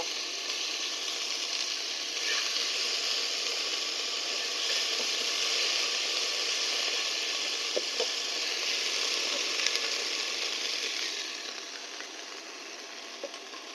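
Garlic frying in a pan for a broad bean and catla fish curry, a steady soft hiss of sizzling oil lasting throughout and easing off toward the end, with a few faint clicks; no talking.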